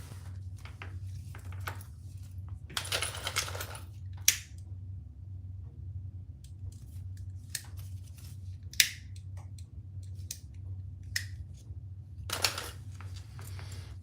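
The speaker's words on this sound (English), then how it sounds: "I'm just cutting off my excess zipper tab." Scissors snip off an excess zipper tab during bag sewing, a few faint, sharp clicks and crunches scattered over a quiet, low room hum.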